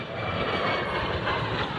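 An A-10 Thunderbolt II jet at an airshow roars past as a loud, steady, broadband engine rush with no talking.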